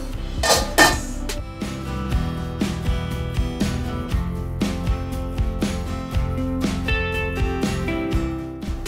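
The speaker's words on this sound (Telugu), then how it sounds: "మూత పెట్టేసుకుందాం." Metal clinks and clatters ring out close and loud as a lid goes onto a pot of carrot halwa cooking in milk, with a string of sharp knocks and taps.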